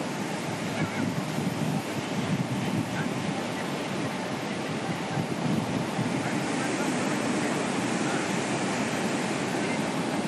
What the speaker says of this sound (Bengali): আমাদের উপকূলের ছবি যদি আমরা দেখি তাহলে দেখব পূর্ব মেদিনীপুর, দীঘা, হাওয়ার গতি বাড়ছে